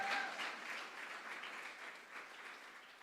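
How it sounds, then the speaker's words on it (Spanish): A church congregation at a Sunday morning service claps together. The applause is quiet and distant and fades slightly as it goes on. "Denle un aplauso al Señor si esto está haciendo algo en esta mañana."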